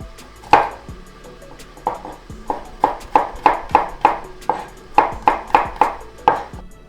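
Garlic and ginger being chopped with a knife on a cutting board while onions fry, sharp close knocks in an irregular then steady rhythm of about a dozen strikes.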